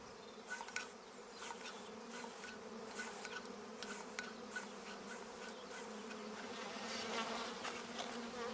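Honeybees buzzing steadily in a dense, droning swarm, with individual bees zipping close past at intervals; continuous and fairly quiet overall, with no voices.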